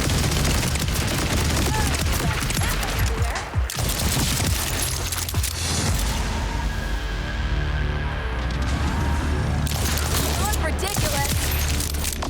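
Rapid rocket fire and explosions from weapons in Borderlands 4, dense bursts of blasts and crackling debris filling the mix, with a voice talking over the chaos.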